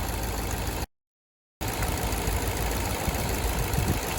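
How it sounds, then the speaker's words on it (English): An Infiniti/Nissan engine idles with a cylinder misfire, a steady close mechanical drone with an uneven, knocking undertone; the sound briefly cuts out completely before resuming. "The engine kept running the same way it does"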